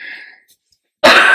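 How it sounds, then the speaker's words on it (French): A woman gives a short burst of coughing right after a stretch of near-silence, loud and close, following a faint breathy sound at the start. "J'en tousse."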